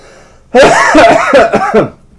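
A man coughs loudly several times in a quick, rough burst up close, then falls quiet.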